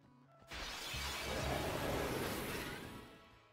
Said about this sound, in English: The glass-shattering sound effect accompanying the transition into battles in Final Fantasy X